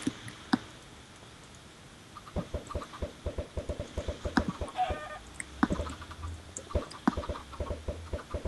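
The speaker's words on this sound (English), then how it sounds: "I think some of the chickens got out." Chickens in the Minecraft Tekkit modpack cluck repeatedly in quick, irregular bursts after a quiet start, with small game ticks and clicks mixed in.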